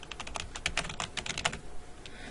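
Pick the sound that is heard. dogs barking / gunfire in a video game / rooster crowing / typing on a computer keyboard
typing on a computer keyboard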